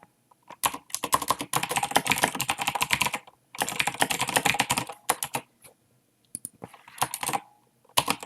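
Fast typing on a computer keyboard while question and answer text is entered into a quiz form: dense bursts of clicking keystrokes with short pauses between runs, close and clear with no voices.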